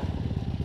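Two-stroke dirt bike engine, a Yamaha YZ or Kawasaki KX 250 on a trail at Iron Mountain, revving in a short loud burst with a throbbing, pulsing rhythm close by.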